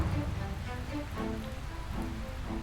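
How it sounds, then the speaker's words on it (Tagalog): Heavy rain pours suddenly on a forest, a dense steady patter on leaves and surfaces heard while sheltering, with no voices. "biglang bumuhos ang ulan"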